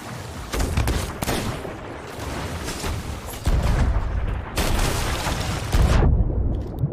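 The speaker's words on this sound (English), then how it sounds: "just try shoot him with the cannon" Repeated booming blasts and crackling explosions fire in quick succession, loud and dense, like heavy cannon fire in a Sea of Thieves ship battle.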